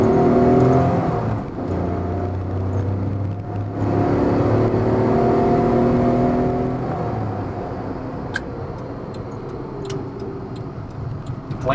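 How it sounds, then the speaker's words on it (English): A 1989 Honda Acty kei mini van with four-wheel drive pulls away and accelerates, its small engine rising in pitch with audible gear whine. The engine then eases off to a steady run, and a few light ticks come through near the end. "You give it a little gas, and it gets traction, and boom, off it goes."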